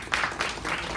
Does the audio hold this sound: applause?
yes